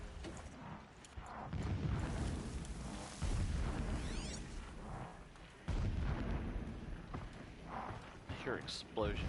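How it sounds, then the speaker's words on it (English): Explosions in the Horizon Zero Dawn video game boom in heavy, irregular low bursts with rumbling tails, mixed with clattering game effects and occasional speech. "I hear explosions."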